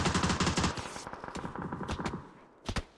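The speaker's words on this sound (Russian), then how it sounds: "по мне другие стреляют" Gunfire in the video game PUBG on the Miramar map: rapid bursts of automatic fire, dense at first, then scattered shots and two sharp close reports near the end, with no speech.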